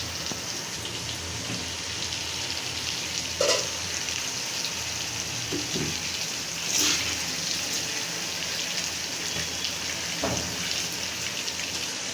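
Beef tripe fries in a pan, cooked village-style as a bhuna. A steady, dense close sizzle hisses throughout with a few brief pops and clinks, and no one speaks.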